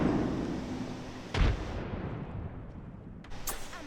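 Incoming gunfire in a ranked squad battle royale video game: a sharp loud shot bursts out once over steady game ambience, with a second fainter burst of fire near the end.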